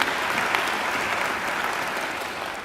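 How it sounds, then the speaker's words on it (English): Sustained applause from a graduation ceremony audience, honouring alumni volunteers, fills a large hall with dense, even clapping that holds steady throughout and fades slightly at the end. "So I think they deserve a round of applause as well."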